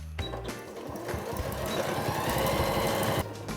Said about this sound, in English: Then I'm just gonna sew all the way around the perimeter with about a 1/4 inch seam.